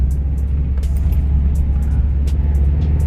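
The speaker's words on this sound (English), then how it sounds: "I can now give it some gas here. And we're moving." Manual transmission car pulling away from a stop in first gear, a steady low engine rumble and drivetrain drone with faint clicks and knocks, close and continuous with no talking.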